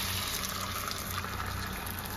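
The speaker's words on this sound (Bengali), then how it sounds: "এবার সেদ্ধ ডালটা দিয়ে দিলাম।" Boiled red lentils pour into a pan of fried fish head and spices, making a brief, steady wet sloshing and sizzling wash at close range with no voice.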